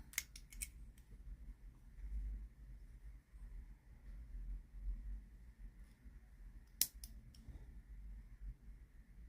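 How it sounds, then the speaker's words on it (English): Scissors snip through a yarn tail while making a crocheted bear coaster, giving a few quick, close clicks at the start and another short snip later, over a faint low hum in a quiet room. "then you can cut the yarn off"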